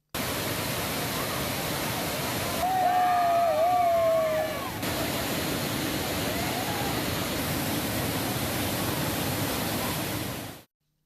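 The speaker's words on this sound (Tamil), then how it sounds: "திற்பரப்பு அருவியில் நீர்வரத்து குறைந்தது" Thirparappu waterfall pouring steadily, a broad, constant rushing roar of falling water heard close and loud throughout, with a brief tonal whistle-like sound layered over it early on.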